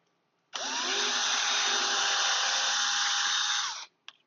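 A power drill whirs loudly for about three seconds while drilling holes in wood, starting abruptly and winding down, with a faint click just after it stops.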